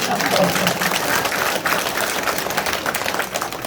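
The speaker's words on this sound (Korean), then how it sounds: "큰 박수 한번 더 쳐드리죠" Crowd at a political campaign office opening ceremony in Yecheon claps together, a fairly steady wash of applause mixed with faint crowd murmur, moderately loud and unbroken.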